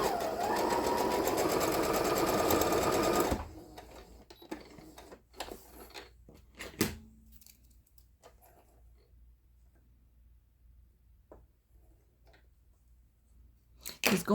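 A sewing machine stitches felt for a snowflake ornament, running steadily and loud for about three seconds, then stopping, followed by quieter handling clicks and taps.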